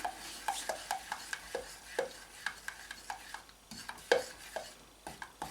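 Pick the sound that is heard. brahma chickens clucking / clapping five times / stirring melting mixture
stirring melting mixture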